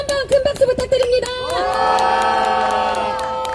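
A crowd at a university students' press conference calling for the president's removal breaks into applause and cheering, sharp claps at first, then swelling into a sustained wall of shouts and whoops that fades slightly at the end.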